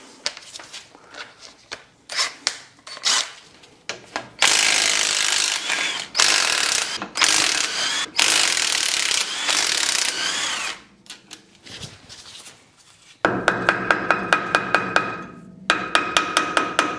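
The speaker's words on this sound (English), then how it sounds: "Now take the drive flange off." On a Land Rover Defender, a ratchet clicks in repeated close bursts while the drive flange is taken off during a brake disc upgrade, with short pauses and metallic clatter between spells of loud ratcheting.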